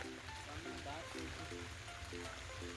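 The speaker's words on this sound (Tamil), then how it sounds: "பக்கத்தில் வந்தாலும் மழை கொஞ்சம் அதிகமாகுது" Steady rain patters and hisses on surfaces and tarpaulin nearby in a hill village, with puddled water underfoot and voices talking over it throughout.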